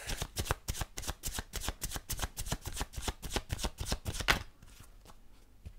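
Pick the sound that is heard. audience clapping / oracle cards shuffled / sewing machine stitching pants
oracle cards shuffled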